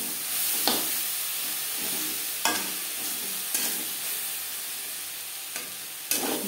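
A roasted spice mix of cumin, coriander, pepper, bay leaf and dried chilli is stirred into bitter gourd and drumstick vegetables sizzling in a pan, a steady frying hiss punctuated by periodic sharp scrapes of the spatula.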